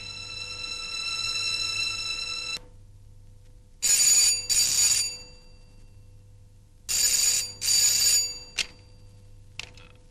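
A telephone rings in two double bursts, loud electronic trills separated by quiet pauses, preceded by a steady tonal beep.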